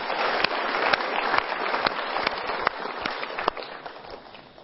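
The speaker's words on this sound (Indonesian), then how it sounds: "Kita berikan tepuk tangan untuk 2 orang ini." Audience on a stage show clapping in sustained applause, dense and steady with sharper individual claps, gradually fading at the end.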